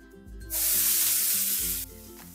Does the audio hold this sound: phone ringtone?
no